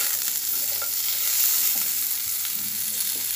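Bitter gourd frying in a pan for a Bengali vegetable curry (shukto) gives a steady, close oily sizzle, broken by a few soft scrapes as it is stirred.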